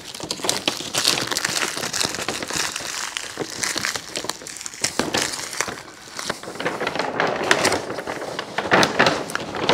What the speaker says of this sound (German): Jetzt trenne ich noch Klebestreifen und Papier.